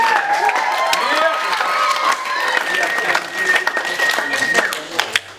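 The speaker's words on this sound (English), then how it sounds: "let's give them a round of applause." A crowd claps and cheers loudly, dense applause mixed with whoops and shouting voices, tapering off toward the end.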